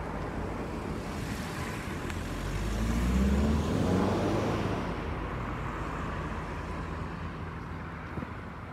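A car passes on a road outside Bicester. It swells from a windy rushing roar to a peak around the middle, then fades back into the steady outdoor wind noise.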